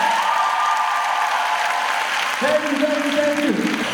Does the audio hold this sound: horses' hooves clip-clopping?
no